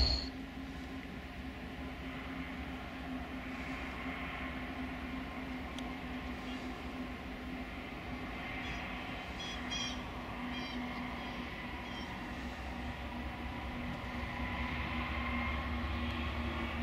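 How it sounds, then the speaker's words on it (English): A freight train climbing a grade at Horseshoe Curve with a couple of pusher locomotives, a steady distant rumble and drone that holds evenly and swells slightly toward the end, with no voices. "Train, just a couple of pushers going up the grade and over the other side."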